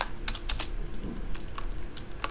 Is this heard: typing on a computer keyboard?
yes